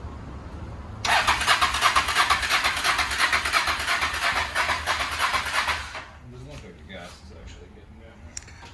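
A Harley-Davidson Dyna motorcycle, parked since 2009, cranking with a loud, steady whirring starter for about five seconds over a low background rumble, then stopping, followed by faint voices and handling noises.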